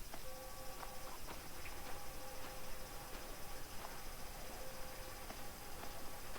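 Steady cicada buzzing drone fills a scene in the video game Chain, with faint repeated high tones and occasional soft ticks, continuous and moderately quiet throughout.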